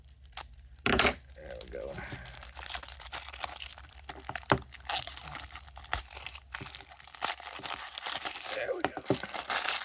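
Foil wrapper of a Magic the Gathering Lord of the Rings starter pack torn open, with close crinkling, ripping and a scissors snip while someone talks over it.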